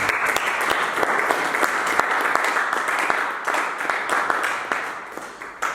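A congregation at an evangelistic worship service claps and applauds to acclaim Jesus. The applause is loud, dense and continuous, with many hands clapping together, then thins slightly toward the end.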